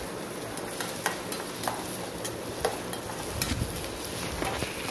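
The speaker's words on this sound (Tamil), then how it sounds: "நல்லா கிண்டி விட்டுக்கிட்டே இருந்தோன்னா ஆனியன் வந்து சூப்பராக வதங்கும்" Onions sizzle as they are stirred and sautéed in a pan over full flame, a steady frying hiss broken by light scraping clicks from the spoon, heard alone without talk.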